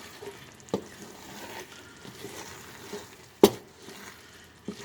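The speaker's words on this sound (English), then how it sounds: "Give this a stir." A pan of butternut squash and mushroom risotto being stirred, with a soft, steady sizzle and bubbling underneath and a few sharp utensil clinks against the pan.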